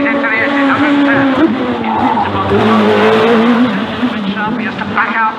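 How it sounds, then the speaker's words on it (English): A race car at a British hillclimb championship run at Shelsley Walsh accelerates hard at full throttle, its loud engine note rising and shifting up through the gears under continuous commentary. "again he's just kept the gas on, he went up a gear, he's flat through the kink, he's into the exit"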